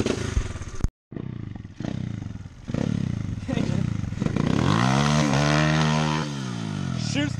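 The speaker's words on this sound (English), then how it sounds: "he's about to take a little rip on a pit bike" A pit bike engine kicks over and catches with a loud, close rev that climbs and falls as the throttle is blipped, while people talk nearby.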